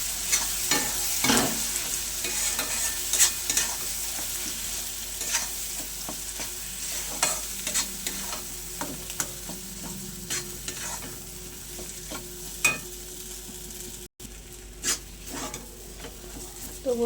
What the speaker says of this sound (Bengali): এবার সব কিছু আমি খুব ভালো করে মিশিয়ে নেব